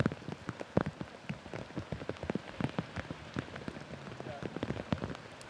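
Steady rain falls on an outdoor disc golf course during a tournament round, a dense patter of drops hitting the surfaces nearby, continuous and moderately loud with no clear voices.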